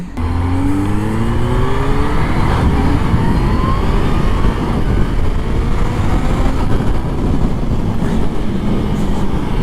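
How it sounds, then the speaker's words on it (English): Riding a 2020 Kawasaki Z-H2 supercharged motorcycle, with a loud, continuous engine roar and wind rush and rising tones as it accelerates, sustained throughout without speech. "the sound you actually hear from the supercharger is the impeller tips breaking the sound barrier"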